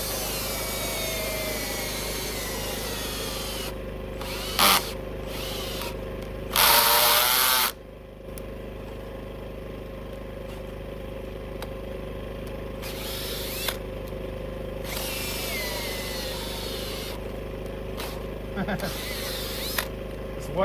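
A power drill bores into wet rock for rebar at a remote off-grid cabin site, its steady loud whine running continuously with brief pauses and bursts of strain, and someone talks over it.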